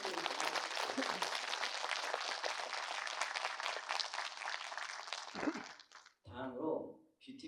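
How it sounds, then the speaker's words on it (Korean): Audience applause after a lecture at a school patriotism concert, a dense steady clapping that runs for about five seconds, then fades, followed by brief talking over a quiet room. "강연을 해주신 임광식 용사님께 다시 한번 큰 박수 부탁드립니다."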